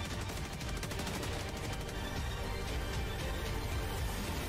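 Continuous rapid gunfire in Helldivers 2 on Helldive difficulty, a steady dense rattle of shots held at one level throughout with no talking.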